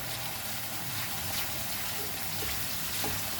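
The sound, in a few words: water added to mutton cafreal masala sizzling in pan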